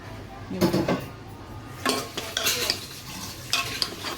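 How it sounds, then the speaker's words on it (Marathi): Vegetable curry being stirred in a full pot over a gas flame, a few scraping, clattering strokes of a spoon against the metal pot in separate bursts, close and fairly loud, with no talk. "घाटून घेऊया आपण चांगला मस्त बघा"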